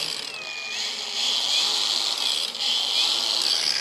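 A handheld power polisher with four speed settings whines steadily at a high pitch, its speed rising and dipping slightly, close and continuous.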